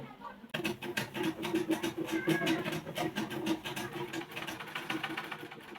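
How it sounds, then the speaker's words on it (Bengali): A sewing machine runs sluggishly because of a loose belt, making a fast, even mechanical clatter and whir that starts abruptly and keeps a steady rhythm at close range. "মেশিনতে তো তোমাদের প্রথমেই আমি চালাই দেখাবো যে আসলে কি সমস্যা"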